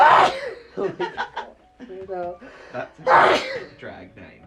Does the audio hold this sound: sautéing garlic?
no